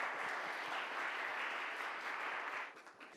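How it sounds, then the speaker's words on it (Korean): Sustained audience applause opening a Korean middle school mock trial competition, steady dense clapping from a crowd that fades slightly near the end. "박수 부탁드립니다."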